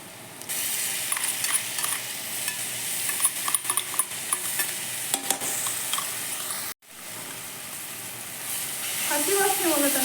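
Green chili and ginger paste fries in hot oil, a dense continuous sizzle with scraping stir strokes, broken by a sudden short gap before the crackle resumes close up.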